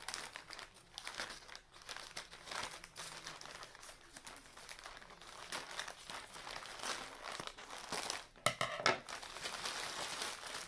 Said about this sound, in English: let's go and open this bag up. I have my scissors here.